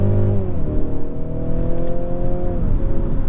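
Engine of a Mercedes C-Class sedan revving hard after a downshift into second gear, climbing toward 5,000 RPM under full throttle; a loud, steady, rising drone heard close from the cabin, with no talk.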